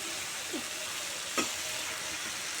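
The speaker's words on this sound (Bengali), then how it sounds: "মশলার মধ্যে আমি দিয়ে দিচ্ছি একটু জল" Spice masala fries in a pan with a faint, even sizzle, and a short louder burst of hissing as a little water goes in.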